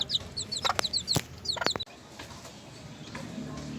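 Sebright chickens in a coop giving a burst of sharp, close clucks and squawks for about two seconds, then falling to quieter scattered clucking over a faint background hum.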